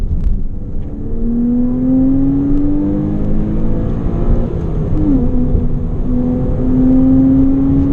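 A Porsche Cayman 987 with the 2.9 engine runs on a road test, giving a steady, loud flat-six drone that climbs through the revs, then briefly dips as it shifts before pulling again, with no voices.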